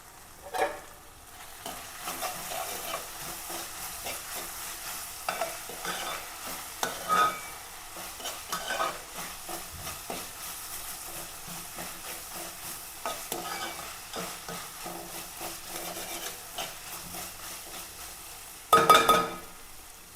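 Onion, green chili and ginger for a chicken curry sizzle steadily in a pan while a spoon stirs and scrapes again and again, with a sharp clink near the end; no talking.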